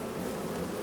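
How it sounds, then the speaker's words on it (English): A swarm of bees hums in a Nebraska farming video game, a dense, steady low buzz that holds at an even level through a brief stretch. "That's a lot of bees."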